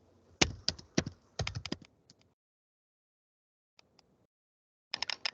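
Quick bursts of keystrokes on a computer keyboard, close and crisp, a rapid cluster of clicks, a pause with a couple of isolated taps, then another short flurry.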